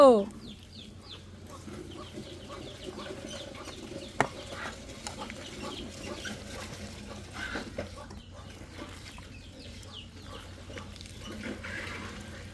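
Chickens cluck and chicks peep steadily in the background, with faint talk and an occasional sharp knock over a low hum.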